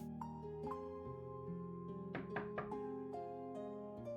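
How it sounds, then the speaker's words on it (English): A door in a research lab gets a gentle knock in the Punishing: Gray Raven game, several soft wooden taps heard close and quiet over a sustained musical backdrop with low, steady tones. "Light footsteps sound outside, followed by a polite knock on the research lab door"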